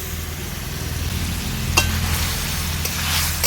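Spring onion leaves are stirred into a spinach curry frying in a pan, giving a steady close sizzle with a few sharper scraping stirs and no voices.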